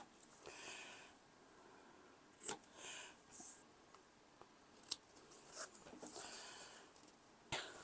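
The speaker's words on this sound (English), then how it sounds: "I'm going to go ahead and snip off some corners here without cutting the thread" Scissors snipping the corners off fabric from upcycled jeans for a kids' drawstring backpack, a handful of quiet, crisp snips spaced irregularly against near silence.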